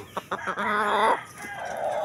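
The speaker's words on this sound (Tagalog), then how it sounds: "Daming gwapong manok." A Boston and Gilboy gamecock crows once, loud and close after a couple of short clucks, then softer fowl calls continue against a quiet yard.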